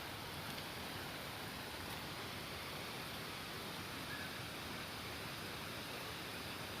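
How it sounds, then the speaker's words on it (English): Waterfall at Stony Brook, NY, in a rocky setting, heard as a steady, dense broadband rush of falling water that holds an unbroken level throughout, with no voices. "We found another waterfalls."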